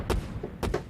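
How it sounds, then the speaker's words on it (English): A short punchy hit layered with an explosion in a film score sound design, two or three deep thuds in under a second, fairly loud with no voices. "this is actually just a little hit to go along with the explosion"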